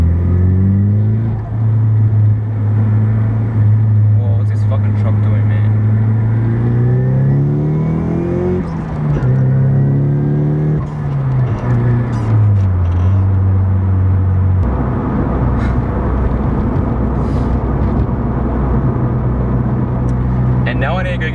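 A Nissan Silvia S15 engine revs up through several rising gear pulls, loud and close, then settles into a heavy rumbling drone.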